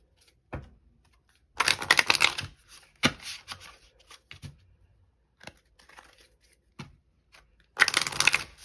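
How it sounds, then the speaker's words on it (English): Angels and Auras Oracle cards shuffled in bursts, two long riffling flurries with a few soft taps and slides between them, close and fairly quiet with no talk. "we're going to pull one final card to get some final guidance from the Angels and Auras Oracle"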